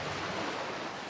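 Sea waves wash steadily on the beach at Ostend, a continuous dense broadband surf roar with no distinct breaks, loud and close, with no voices.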